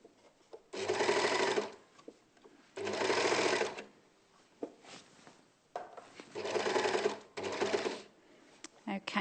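A four-thread overlocker stitches a hem in four close, loud bursts of fast whirring separated by quiet pauses, with faint handling noises in between.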